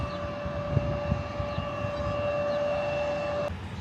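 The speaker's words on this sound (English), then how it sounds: "you should be able to see that is Jenny's plane right there, taxiing the runway" A passenger airplane taxiing on a runway, heard from a distance as a steady engine drone with a sustained whine that holds evenly, then cuts off abruptly near the end.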